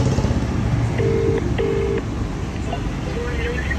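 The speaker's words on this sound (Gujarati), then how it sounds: "ગઈ રિંગ ગઈ." A telephone call in progress: two steady ringback tones, each about half a second long, sound over car and wind noise, then fainter tones follow.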